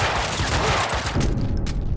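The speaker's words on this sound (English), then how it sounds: "Damn tool's shooting at me." Rapid gunfire in the Max Payne 2 video game, a dense close burst of overlapping shots sounding loud and continuous for about two seconds.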